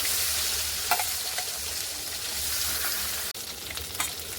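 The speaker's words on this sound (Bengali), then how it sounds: "প্রথম খোলার মাছটা ভাজা হয়ে গেছে, এবার আর যে মাছ আছে দ্বিতীয় খোলা দেবো" Fish pieces frying in a pan, a steady close sizzle and crackle with a few brief sharper pops, no talk.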